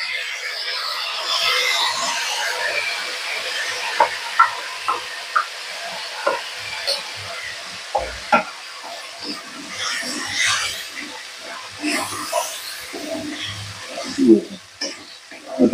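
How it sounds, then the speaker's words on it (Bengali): Spice paste for a paneer dish goes into tempered spices already fried in the pan, giving a steady sizzling hiss with sharp tapping of a spoon or ladle stirring against the pan at close range. "যে ফোড়নটা ভাজা হয়ে গেছে, এখন আমি দিয়ে দেব এই যে পেস্ট করে রেখেছিলাম"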